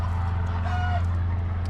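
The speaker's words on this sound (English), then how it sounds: "now the chickens are all excited, worked up" Excited chickens cluck and call in short, nasal bursts over a steady low hum, moderately close.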